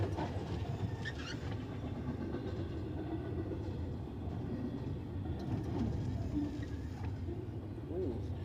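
A train rolls past, its steady low rumble filling the whole stretch at close range, with faint clicks and rattles of wagons and some indistinct voices or noise mixed in.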